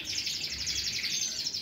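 Brown pío bruno finches chirp in an aviary, giving a quick, high, twittering burst that is faint and brief.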